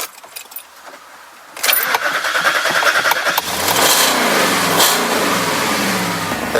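An Audi A8 that has sat unused for weeks is started with a key: a quiet lead-in with key jangling, then the engine catches and settles into a steady idle, heard close with no talking.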